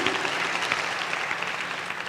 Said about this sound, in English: A round of applause to all our students, Cohort 1 and Cohort 2.